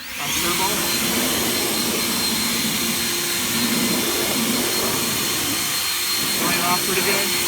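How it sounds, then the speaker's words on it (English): A handheld air blower running on its turbo setting to dry a washed car tire and wheel, a loud continuous high-pitched rushing whine that holds steady for several seconds. "I'm going to use my blower on turbo"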